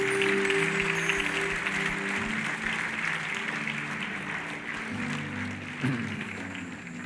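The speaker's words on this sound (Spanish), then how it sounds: "Dale un aplauso al Señor." A church congregation claps together for several seconds, a dense wash of applause that slowly fades a little, with some music or voices faintly underneath.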